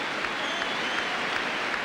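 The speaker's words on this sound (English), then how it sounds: "Crowd showing their appreciation of the youngster for that." Football crowd in a stadium applauding a young player during a Chelsea v Leicester City or Sheffield Wednesday v York City match, steady distant clapping throughout, fairly quiet.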